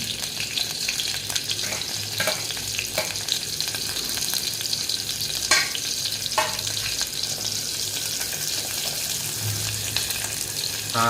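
Chopped onions fry in a pan for a fish curry in a bachelor room kitchen. A steady, close sizzle carries on throughout with occasional faint clinks and scrapes of stirring. No one speaks.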